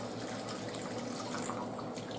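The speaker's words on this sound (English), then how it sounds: "So when you turn on the water and it fills things up, the default is that the water stays in the sink" Water from an open tap pours steadily into the sink of a historic home, a continuous close rushing splash that holds even for the whole stretch with no voices over it.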